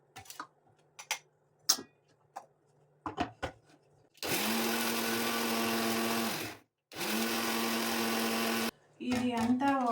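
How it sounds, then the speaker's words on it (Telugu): A kitchen mixer grinder pulverises dried turmeric into powder: a few clicks and handling knocks come first, then two long, loud grinding runs with a brief pause between them, and a third run starts at the end. "ఇప్పుడు మిక్సీకి వేస్తాను నేను మళ్ళీ."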